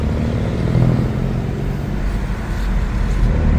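A BMW M6 with a V10 engine is driving on the road, heard as a loud, steady low engine drone and road rumble from close by that swells slightly now and then, with no talking.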